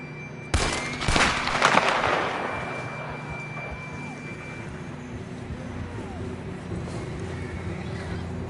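Horse hooves clatter after a sharp burst at the start, with a whinny or two over a steady background, then settle into a quieter rumble. Horses galloping in the video game Red Dead Redemption 2.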